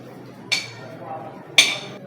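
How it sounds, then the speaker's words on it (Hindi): Cooked chickpeas drop into a kitchen blender jar for Arabic-style hummus, giving two sharp, bright clinks about a second apart over a quiet room background. "इसी ब्लेंडर में मैं अपने चिकपीस डाल रही हूँ।"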